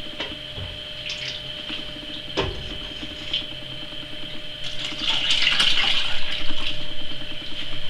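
Homemade mixed berry fruit wine poured through a filter, with quiet trickles and taps that swell into a steadier splashing pour in the last few seconds, close up and with no talking.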